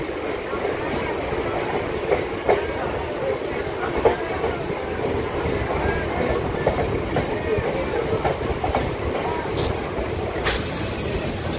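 A MEMU local train at Uppalluru railway station, with a steady loud rumble and rhythmic rail noise running throughout, a brief higher squeal near the end, and faint voices in the background.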